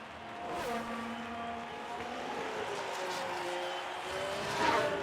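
F1 race cars in the video game F1 Manager 2022, heard on the final lap at Bahrain: a steady high engine whine with rising and falling pitch, loud and close throughout and swelling near the end, with no talk over it.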